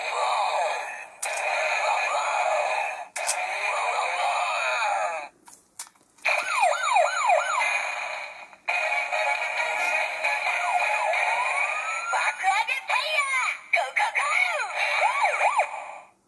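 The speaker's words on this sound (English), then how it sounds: "There you go, you hear the siren and builder noise in there as well." A BoonBoom Change Axe toy plays electronic siren and builder sound effects in short bursts, with warbling siren tones and music broken by brief gaps and button clicks.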